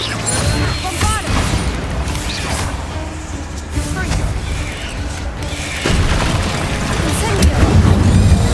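Heavy, continuous game combat noise from the Bombarda blasting spell in Hogwarts Legacy, with dense booming and crashing impacts layered under an energetic voice, growing denser and louder toward the end.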